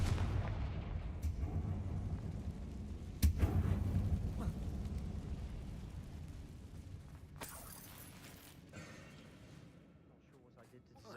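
A Confringo fire spell blasts in Hogwarts Legacy near a closed tomb, a sharp explosive crack followed by a rumbling burst, with a second bright impact later amid low game ambience.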